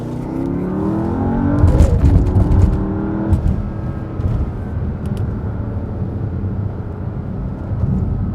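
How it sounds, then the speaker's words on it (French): A Porsche engine revs hard and close, a loud, continuous roar that swells and eases over several seconds with no talk. "Ah bah là, il râle le moteur."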